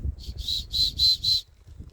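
Four short, high-pitched blasts from a survival kit whistle in quick succession, close and clear, over a faint low background rumble.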